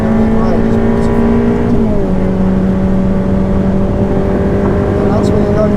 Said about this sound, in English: you'll feel the torque with the turbocharged engine